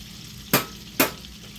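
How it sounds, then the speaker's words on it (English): A burger fries in butter while being basted, a low steady sizzle broken by two sharp, loud splashy bursts about half a second apart. "Keep the basting going. Add flavor. We're gonna add so much flavor. Make sure the butter gets in there."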